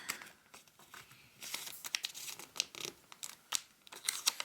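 Paper being folded and creased for an origami hummingbird, heard as quiet, close crinkling and crisp rustling bursts that come in irregular clusters.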